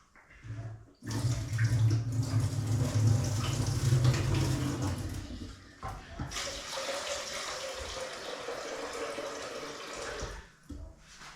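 Water runs steadily from a tap in a chilly kitchen while something is rinsed, making a continuous splashing rush that softens partway through, then briefly stops near the end.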